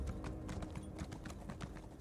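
Steady clip-clop of a trained steed's hooves in a fantasy video game, quick regular beats running continuously over a dense background of game music and ambience.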